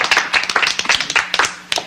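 A studio audience claps for the Poco Puppets on a television soap opera set, a close, steady patter of many hands that fades slightly toward the end.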